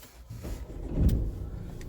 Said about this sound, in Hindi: रुको हम स्टार्ट कर लेते हैं कार को।